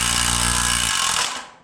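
An impact driver hammers hard and loud at close range, pulling carriage bolts into a bracket for a pole barn rollup door, then spins down to a stop.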